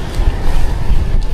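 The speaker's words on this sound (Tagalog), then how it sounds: "Pero may hangin naman." Lingering wind the morning after a typhoon rushes and buffets the microphone in a brief, steady outdoor roar with low rumble, no voices.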